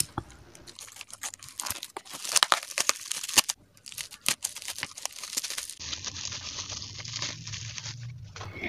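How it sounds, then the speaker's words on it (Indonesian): A package holding a Nuface vitamin C serum is opened up close, with bursts of crinkling plastic, paper tearing and rustling handling, followed by quieter, muffled rustles. "Nah kita unboxing dulu yuk"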